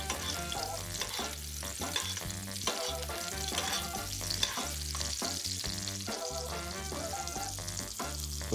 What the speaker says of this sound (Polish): Kurczak i bekon powolutku się smaży